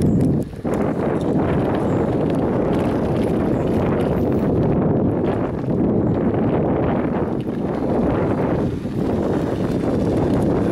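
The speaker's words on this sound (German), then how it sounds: "Da fahre ich jetzt auf dieser historischen Straße entlang. Mit meinem Fury." Horse hooves clip-clop steadily along a historic Roman road outdoors, a continuous rhythmic plodding under rushing wind noise on the microphone.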